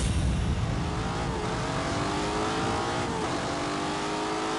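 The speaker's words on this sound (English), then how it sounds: "What we've done is use a snowplow to create a race." A snowplow engine drones steadily as it is driven hard around a race course, a loud continuous motor hum with shifting pitch as it accelerates, no voices over it.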